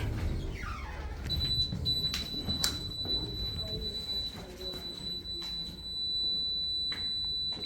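An Otis Series 1 hydraulic elevator door malfunctioning, with scraping and sliding noises, short bursts and knocks over a steady low hum, with a faint tone running throughout and brief voices.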